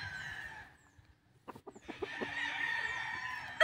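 A stag gamecock crows loudly and close, pauses for a few short clucks, then crows again in a long call that runs to the end.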